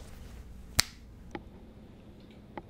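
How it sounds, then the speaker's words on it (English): A single crisp finger snap rings out sharply up close, followed by two fainter clicks, over a quiet room background. "let me snap my fingers"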